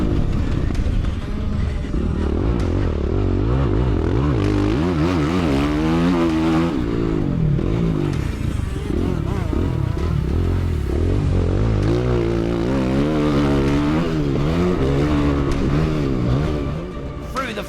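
A Kove MX 450 motocross bike races on the gas toward a finish-line jump. The engine is loud and steady, rising and falling in pitch through repeated revving sweeps for nearly the whole stretch.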